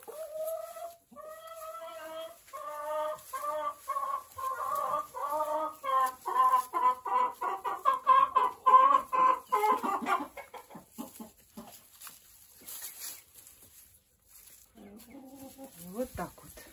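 Hens in a clean, dry chicken coop cluck in a run of repeated close calls that rise in pace, then fade, with soft rustling and a few later clucks.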